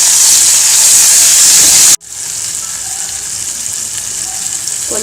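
Onion and tomato sautéing in a hot pan give a steady close sizzle and hiss, briefly cut off before resuming slightly softer, with no talk.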